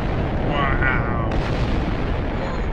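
A thermobaric missile detonates in Minecraft with the Voltz mod, giving a dense, sustained roaring rumble, loud and close, with a sharper burst midway.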